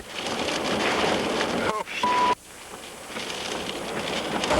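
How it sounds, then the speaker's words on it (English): Hurricane Andrew's storm roars with heavy, steady wind and driving rain, a loud broadband wash that runs nearly unbroken, with a brief tonal beep and dropout partway through. "the water's just whipping up, the wind is whipping up"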